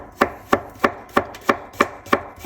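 Potatoes for a Spanish tortilla de patatas being cut with a knife on a board, eight crisp, evenly spaced chops close by with no talk.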